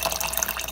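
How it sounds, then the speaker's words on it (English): Warm water splashes steadily as it is poured into an ultrasonic cleaner tank, a continuous close rushing and gurgling stream. "I've just added my own warm water"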